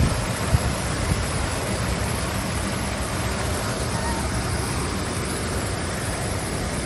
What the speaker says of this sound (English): You can see the water, it goes down into the basin.